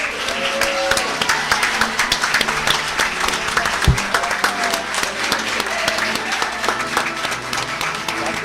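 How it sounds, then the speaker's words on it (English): Audience applause at a school board meeting, a steady wash of clapping through the whole stretch with murmured voices and room noise mixed underneath. "let's extend a warm welcome and a round of applause to Matthew Perez"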